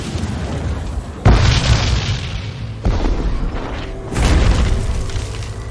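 Bombard cannons firing in the medieval strategy game Age of Empires IV, with three heavy booming blasts a second or so apart, each followed by a rumbling roll and debris noise, loud and close.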